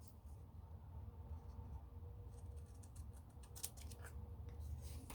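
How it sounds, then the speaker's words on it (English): Scissors cut paper card pieces for ephemera in a run of quick, soft snips and rustles, close but faint, over a low steady background rumble. "I am going to cut it a little bit better though."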